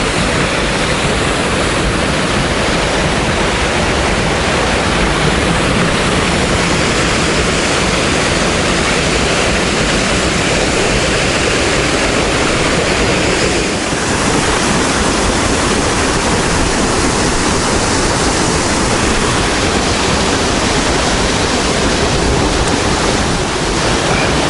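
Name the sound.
Dawson Falls waterfall on Mount Taranaki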